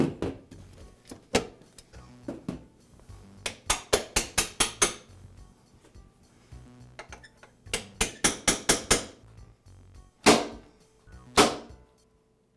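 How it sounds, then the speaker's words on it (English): A hammer taps a hinge pin through the deck door and into the hinge bracket of a Husqvarna lawn mower, sharp metallic strikes coming singly and in quick bursts of four or five, close and fairly loud with pauses between. "I'll use a hammer to tap the pin through the door and into the other end of the hinge bracket."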